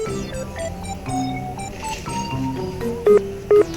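A telephone in a Bisaya comedy skit gives two short, loud dialing beeps near the end of the clip, following a stretch of background music and tones.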